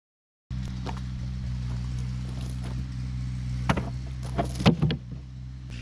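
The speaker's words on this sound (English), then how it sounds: "You guys hear my neighbor on his tractor over there? He just got that subcompact tractor." A neighbor's subcompact tractor runs nearby with a steady low engine drone. The drone starts abruptly and continues evenly, with a few louder knocks and clatters toward the end.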